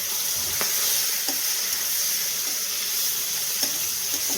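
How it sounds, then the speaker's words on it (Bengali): Fish head sizzling and frying in oil in a pan, a steady loud hiss throughout with a few brief pops and stirring clinks, no voices. "দেখুন আমি ভাজছি।"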